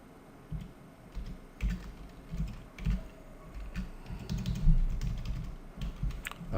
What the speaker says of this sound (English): Let me type an anchor tag